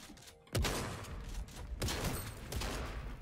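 Shotgun blasts in the Fortnite video game, two heavy booming shots about a second apart over a noisy, busy game soundscape, with no talk.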